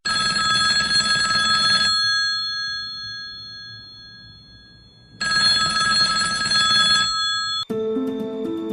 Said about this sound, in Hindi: उनका फोन बजा